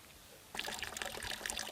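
Clear, cold water trickles and burbles near a mountain hermitage, a soft close flow with small bright splashes that begins after a brief quiet moment.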